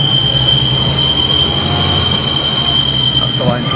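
A train on the line to Edinburgh passes close by with loud, sustained wheel squeal over a steady rolling rumble. No voices are heard.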